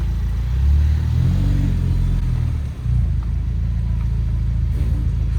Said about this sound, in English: We're test driving